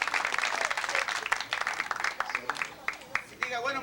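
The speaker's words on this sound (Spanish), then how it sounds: "¡Aplausos para él, por las palmas!" Applause from an audience at a festive party celebration, dense clapping that swells and then thins into scattered claps, with voices mixed in beneath it.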